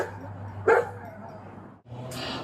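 Dogs inside a car let out one sharp bark during a police traffic stop in Los Angeles, over the steady low hum of the vehicle.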